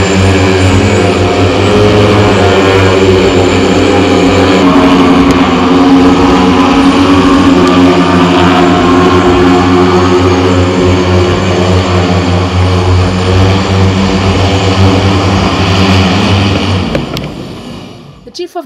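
Briech UAS attack drones fly at a demonstration with the Nigerian Army at the company's Abuja headquarters, making a loud, sustained propeller buzz with steady harmonic tones that drops away abruptly near the end.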